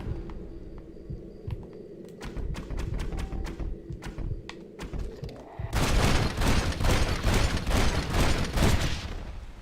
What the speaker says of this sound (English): Shoot him multiple times. That's how I do the dueling in this game.